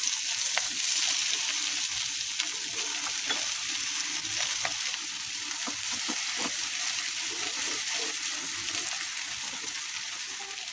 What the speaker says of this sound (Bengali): পেঁয়াজটা আমি হালকা বাদামি রং করে ভেজে নিতে